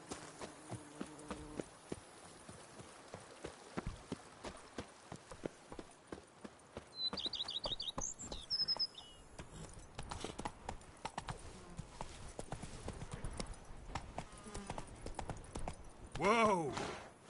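Roach the horse's hooves clip-clop in a steady rhythm through The Witcher 3, with occasional game sound effects and a whinny near the end, all under a person's talk.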